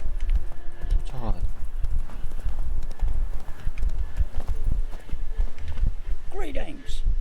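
Roach the horse's hooves clip-clop steadily in The Witcher 3, a close, continuous trotting rhythm with occasional whinny-like snorts, under game music and voices.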